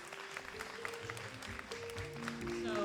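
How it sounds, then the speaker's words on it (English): Light, scattered clapping from a small audience at a women's awards ceremony, faint and thin, with some background tones and murmuring under it. "Let's welcome up Priscilla Garces with a warm round of applause"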